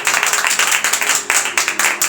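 Lively applause from a church congregation during a sermon, with a rhythmic pulse, many hands clapping together in quick regular beats, close and fairly loud.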